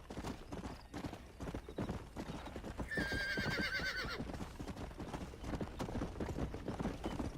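Horse hooves clip-clopping rapidly in Red Dead Redemption as an all-white horse gallops at full sprint, a continuous rhythmic pounding with a brief whinny partway through.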